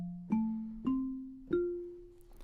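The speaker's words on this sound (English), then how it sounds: "Obviously, we've got marimba." Three struck marimba notes from the Chromaphone software synthesizer preset, rising slightly in pitch, each ringing out and decaying before the next, clean and alone.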